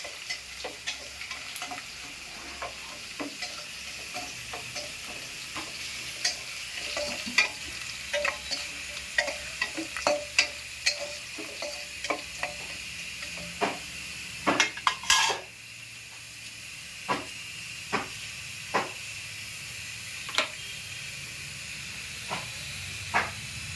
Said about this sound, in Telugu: పోపును 2 నిమిషాలు వేగనివ్వాలండి.